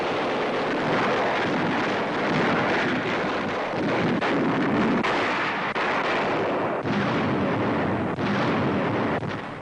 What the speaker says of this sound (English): A heavy bombardment of shore installations precedes the attack.